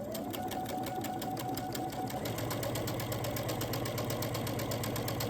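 A sewing machine runs continuously while chain piecing quilt blocks, its fast even needle rhythm humming close and quietly throughout without a break.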